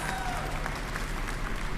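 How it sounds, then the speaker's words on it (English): Audience applause for a city councilmember at a topping-out ceremony for a new entertainment and sports arena, a steady patter of clapping from a moderate crowd, fairly quiet and even throughout. "Give Kenyon a big round of applause."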